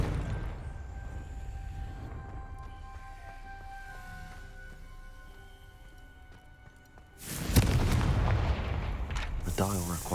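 Confringo fire spell in Hogwarts Legacy, with a quiet tonal magical hum that swells into a loud, rumbling fiery blast lasting several seconds.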